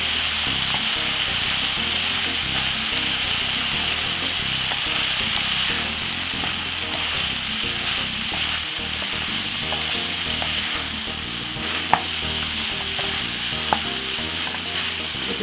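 Corned beef broken up and frying in a pan, a loud continuous sizzle with stirring and scraping running throughout, plus a couple of sharp utensil knocks near the end.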